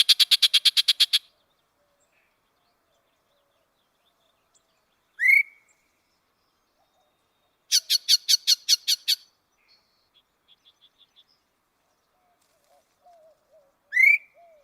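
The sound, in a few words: recorded song of western yellow-breasted chat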